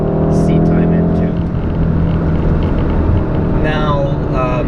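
A VW Golf R MK7 with a DSG gearbox driven hard on a canyon road, its engine droning loud and steady throughout, with a sharper rising rev burst near the end.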